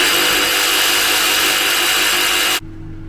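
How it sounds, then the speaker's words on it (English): A jigsaw cuts steadily through a wooden board to square off the rounded ends of routed grooves, a loud, continuous buzzing rasp that stops abruptly near the end, leaving a low residual hum. "a jigsaw is used to square them off."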